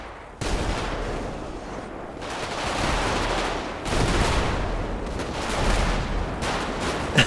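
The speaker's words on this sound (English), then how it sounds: "alright, open fire, open fire" Dense gunfire in a firefight, sustained bursts of shots rattling continuously and loudly, with surges in intensity and no voices heard.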